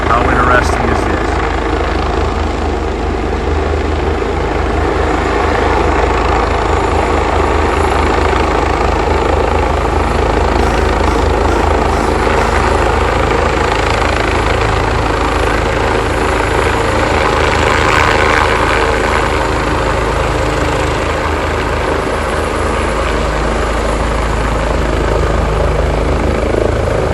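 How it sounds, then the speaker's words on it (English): A medical helicopter settles onto a children's hospital landing pad in the city, its rotor and engine roaring loud and steady throughout the whole stretch with a constant whine, while a person speaks over it. "we are observing a medical helicopter land at Louisiana Children's Medical Center, LCMC."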